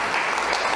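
Brief burst of dense applause from a church congregation, loud and close, cut off after under a second.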